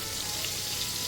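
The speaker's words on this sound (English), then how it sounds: "I'll just bung it in the fry pan. Yeah, so while that's sizzling away" King George whiting fish sizzling in a frying pan, giving a steady, close hiss of frying that runs without a break through the short moment, with no voices.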